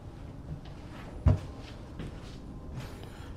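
A kitchen cabinet door in a manufactured home, heard as a single sharp knock or thump of it shutting, moderately loud against a quiet room with faint background noise and no talk.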